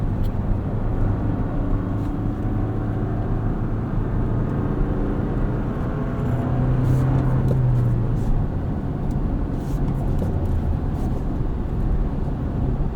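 A 2024 Toyota Tacoma with a 6-speed manual drives a cool-down lap, its steady engine drone and road rumble heard from inside the cab, continuous and fairly loud.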